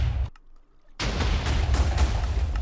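Video-game gunfire roars in dense, loud sustained bursts, stops for a short moment, then resumes just as heavily.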